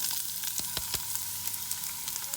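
Onions and peppers sauté with a little salt in a preheated pan of hot oil, giving a steady, close sizzling hiss broken by soft crackles and a few light stirring clicks.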